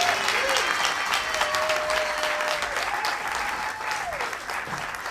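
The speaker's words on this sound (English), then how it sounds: "could everyone please give a round of applause to Joey Santana?" Live theater audience at The Crocodile applauding steadily, dense clapping held at full strength throughout, with a sustained tone running underneath.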